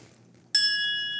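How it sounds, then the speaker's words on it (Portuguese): A bell rings once as a sound effect during a Portuguese-language podcast. After a near-silent moment, a single bright, metallic strike rings out and hangs with a clear sustained tone until the end. "Toca o sino, sacristão."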